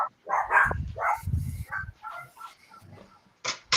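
Dogs bark in a quick series of sharp, fairly close barks and yips that come in bursts with short gaps over a few seconds, with no talk over them.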